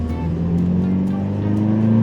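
A Toyota 86 being driven on a winter mountain road gives a steady, loud engine drone with a constant low hum and no pauses.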